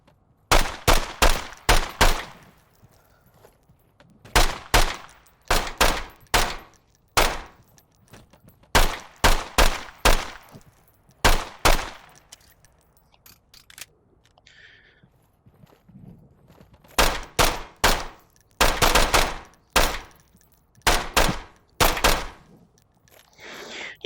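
Pistol shots from an M9 on a close-quarters range in a video game, fired in quick bursts of sharp, loud cracks with short pauses between groups.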